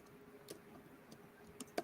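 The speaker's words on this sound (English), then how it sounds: "I'm typing there so that you can just see." Several faint, scattered keystrokes on a computer keyboard, light isolated clicks spaced irregularly in a quiet room, with the last tap slightly louder.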